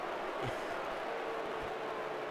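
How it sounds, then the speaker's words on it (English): Football stadium crowd at a college game between Kansas State and Oklahoma State, reacting to a replay on the big board: a steady, distant roar and murmur of many voices that holds at a moderate level throughout. "you hear the reaction from the crowd who saw the replay on the big board"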